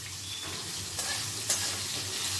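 Potatoes frying in a pan and being stirred, a steady close sizzle with a couple of brief scrapes from the utensil, heard alone with no talking.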